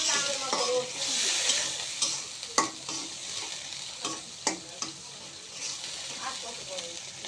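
Vegetables cooking with dried ribbonfish in a pan just after water is added, heard as a steady sizzle and bubble with repeated scraping stirs and a few sharp utensil knocks against the pan.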